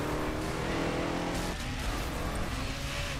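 Engine drone of a car in the racing game Burnout Paradise, a loud continuous steady roar with a slight shift midway and no pauses.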